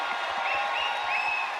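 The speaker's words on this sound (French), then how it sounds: "Applaudissez Chantal!" Arena crowd applause at the Centre Bell, a dense, even wash of clapping heard at a moderate distance and held steady for the whole stretch.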